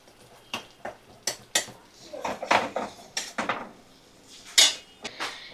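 Spices stirred in a pan for a chicken chole dish: a series of sharp metallic scrapes and clinks from a utensil against the pan, irregular and close, with brief pauses between strokes and no sizzle underneath.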